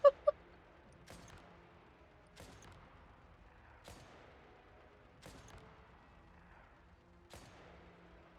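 Sharp gunshots ring out in the Genshin Impact video game, spaced about every second and a half, each a crisp crack with a short fading tail against a quiet background, after two quick opening pops.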